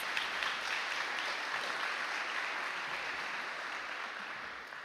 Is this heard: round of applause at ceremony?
yes